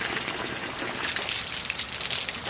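Water flowing steadily from a garden hose held in a hands-free holder, a continuous close hissing gush with a slight splashing texture and no voices.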